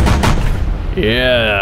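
Gunfire in the video game UFO: Extraterrestrials as a UFO is shot down, a short burst of shots under a spoken word, followed by a steady rising electronic tone.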